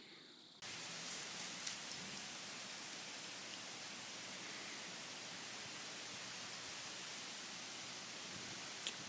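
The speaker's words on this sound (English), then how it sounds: "it's windy" Cold wind blows steadily outdoors as a broad, constant rushing hiss that starts abruptly and holds at an even level, with faint rustling and a couple of small bumps.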